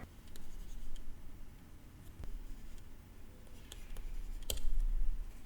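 A pen scratches across paper while a diagram of a bus controller is drawn by hand, with faint irregular strokes and small clicks, quiet and close, and no talking.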